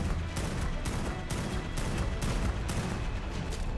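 Rapid bursts of gunfire from a gun in the video game Ark: Ragnarok, sharp repeated shots in quick succession, loud and continuous with no speech over them.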